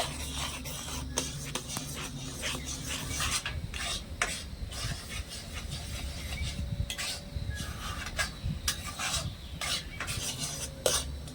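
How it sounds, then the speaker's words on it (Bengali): Lemon juice being stirred into milk for a mango laddu, giving a steady, close scraping and rasping of a spoon against the pan with small clinks throughout, no voices. "এবারে আমি এখানে দিয়ে দেবো লেবুর রস তো এখানে আমি ঠিক এক টেবিল চামচের মতো লেবুর রস নিয়েছি ভালো করে মিশিয়ে নেব"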